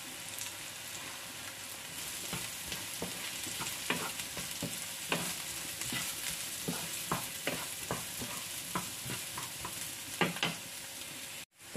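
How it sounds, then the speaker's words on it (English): Mushrooms frying in a pan give a steady, close sizzle, with repeated sharp scrapes and clicks from stirring scattered throughout and no voices. "So guys, our mushroom is already cooking."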